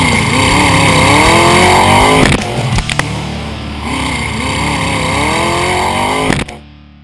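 Rock bouncer off-road vehicles at a Southern Rock Racing Series round at Wildcat Offroad Park in East Bernstadt, Kentucky, roar with loud, sustained engine revving, rising and falling throttle, and a few sharp bangs before the sound cuts off abruptly.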